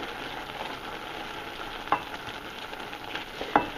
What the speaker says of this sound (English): I just added half a cup of chickpeas and stir it up a little bit